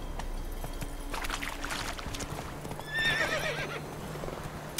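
Horse in The Witcher 3 game trotting with steady clip-clop hoofbeats, then a loud whinny rises near the end, over ambient outdoor game background.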